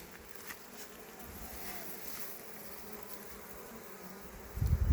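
Honeybees hum around a beehive during a gentle hive inspection, a steady close swarm buzz lasting throughout, with a louder thump near the end.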